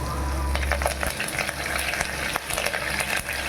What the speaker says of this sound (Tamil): நல்லா செவந்ததும் கருவேப்பிலை போடுங்க